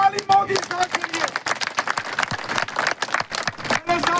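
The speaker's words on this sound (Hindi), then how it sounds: "जोरदार ताली मोदी साहब के लिए" Loud, dense applause and clapping from a crowd of party workers at a BJP political rally in Koteranka, Rajouri, praising Modi, sustained and broadband throughout with cheering voices mixed in.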